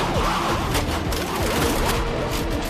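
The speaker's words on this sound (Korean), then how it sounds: "한밤중에 시내에서 총격전이 벌어집니다" Rapid bursts of gunfire crack repeatedly through a noisy night city street as police cars surround a vehicle, sharp and echoing amid background rumble, captured on CCTV.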